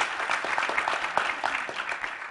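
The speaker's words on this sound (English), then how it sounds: "let's get a round of applause for this panel" An audience claps steadily for a panel at a politics institute event on race and the presidential campaign, a dense, sustained round of applause with no voices over it.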